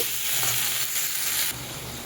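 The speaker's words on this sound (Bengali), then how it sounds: "সব একই সাথে দিয়ে এটাকে একটু নাড়িয়ে চাড়িয়ে নেব" Ginger paste and chopped tomato frying in a pan while being stirred, a loud continuous crackling sizzle with soft scraping, easing slightly toward the end.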